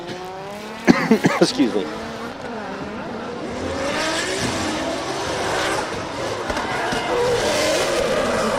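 A drift car in Formula Drift Japan qualifying at Ebisu yanks its e-brake, with a short revving engine burst followed by a long, loud broadband tire squeal and roar. Someone speaks briefly over it.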